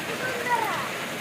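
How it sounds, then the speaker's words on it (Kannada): Early-morning rain falling outdoors as a soft, steady hiss with faint gurgling water underneath, quiet and continuous. "ಮುಂಜಾನೆ ಸ್ಟಾರ್ಟ್ ಆಗಿದೆ ನೋಡ್ರಿ ಮಳೆ"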